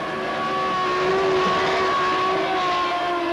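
A Williams Mecachrome FW19 Formula 1 car driving, its engine holding a steady high-pitched drone with faint shifts in tone, continuous and fairly close throughout.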